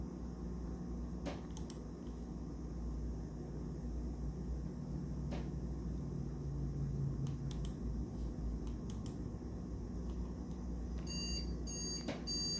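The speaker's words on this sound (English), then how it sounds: "The 3 beeps of death." A short run of three PC motherboard POST error beeps near the end of the clip, rising above a steady background hum and faint clicks.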